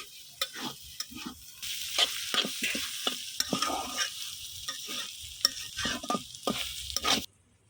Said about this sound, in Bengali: আমি কিন্তু মাংসটা কষায় নিলাম